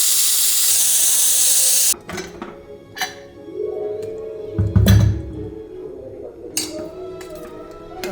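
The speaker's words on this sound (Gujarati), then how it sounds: "કુકરનું ઢાંકણ બંધ કરીને 1 વિસલ થવા દઈશ." A pressure cooker holding brinjal and potato curry gives a loud, steady steam hiss for about two seconds, then falls quiet into softer hissing, sharp metallic clinks and a brief rumbling burst near the cooker.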